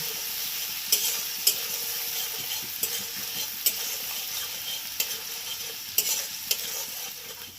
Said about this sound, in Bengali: চিলি পেস্ট দিয়ে দিলাম। এই জন্য এটাকে আমি ভালো করে কষিয়ে নিচ্ছি।